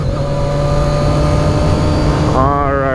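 A motorcycle's exhaust drones steadily at cruising speed on a road ride in chilly weather, a loud continuous engine tone that rises in pitch as the rider accelerates near the end, with the rider talking over it.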